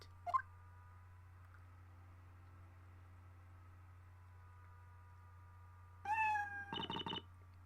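Cat meowing in the puzzle adventure game Professor Layton vs. Phoenix Wright, one short mew early, then a longer rising meow followed by a brief buzzy burst, over a quiet low hum.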